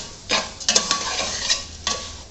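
Spoon stirring sugar into sweet zarda rice in a cooking pot, a few irregular scraping strokes close up with faint sizzling between them.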